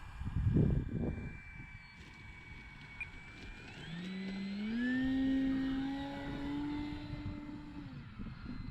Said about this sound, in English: Tell you what, this is one fun plane to fly.